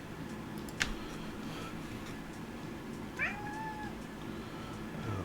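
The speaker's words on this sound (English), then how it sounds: "Say hello to Fonzie, my cat" A pet cat gives two short meows, indoors and fairly quiet, over a soft steady background hum with faint ticking.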